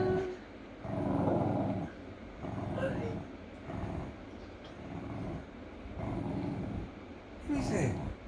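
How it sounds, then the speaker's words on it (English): A dog growls in repeated low rumbling bursts close by indoors, with a person talking over and between the growls. "she's growling"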